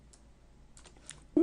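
A few faint, quick computer mouse clicks tick softly in a quiet room while a map is built in the SWAT 4 editor, and a voice cuts in right at the end.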